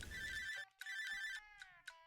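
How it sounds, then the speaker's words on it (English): A flip phone rings with a bright electronic ringtone, loud and close, in repeating melodic bursts broken by short pauses. "A flip phone"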